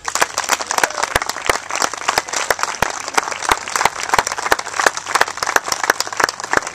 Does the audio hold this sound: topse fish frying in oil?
no